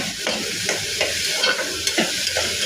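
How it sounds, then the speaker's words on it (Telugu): Onion pieces frying in well-heated oil for chicken pulusu, a steady close sizzle with a few soft stirring scrapes and spatula taps, no voices. "ఉల్లిపాయ పెట్టుకుంటే వేసుకోవాలి ఇది కొద్దిగా దోరగా వేగనివ్వాలి"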